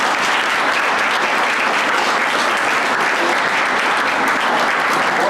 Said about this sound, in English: let's give all 3 award recipients of Conservation Awards another round of applause